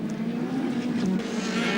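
Touring race cars, including the number 18 car, at Mallala racing circuit in 1990 give a sustained buzzing engine note with a steady pitch that briefly dips, close and loud for the whole moment.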